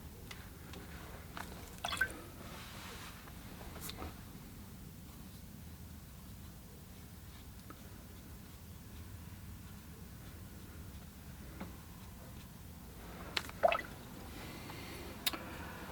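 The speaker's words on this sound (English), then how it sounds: "okay, I'm going to do some splashing here." Watercolor paint flicked and splashed onto paper while painting boats, heard as a few faint, scattered soft spatters and drips over a quiet, hissy room background.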